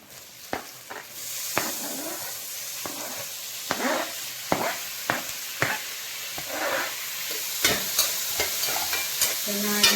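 Chopped tomato frying in a pan for Mangalore tomato rasam, a steady sizzle and hiss throughout with regular stirring taps and scrapes of a spoon, close by and alone.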